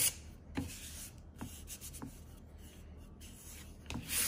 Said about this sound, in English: I'm gonna sand this down with 220